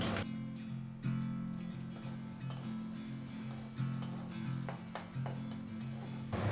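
Onion with nigella seeds frying in mustard oil makes a dense, steady, close sizzle with crackling pops, alongside a low, pulsing hum from the cooking setup throughout.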